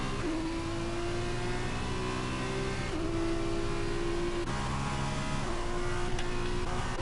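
Formula 2 race cars in a sim racing game at the Austria round, engines revving and accelerating in a steady, continuous drone with gear-shift pitch changes, loud and close with no talk over it.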